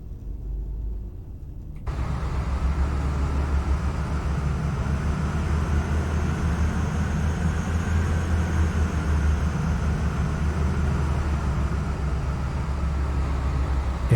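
Train engine on the Chiltern Main Line in Train Simulator: a quiet opening gives way to a sudden, steady loud engine drone with a low rumble that holds without a break.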